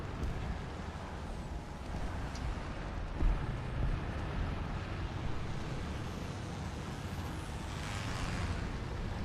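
Friendly propeller plane engines in War Thunder, a steady broad engine drone that holds throughout, moderately loud with slight swells and a brief bump in the middle, no talk over it.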